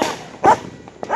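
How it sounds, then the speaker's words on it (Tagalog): Bella the dog barks in a few quick, tense yaps and yips at a New Year celebration, close and fairly loud, with short gaps between the barks. "Si Bella na may tumatahol"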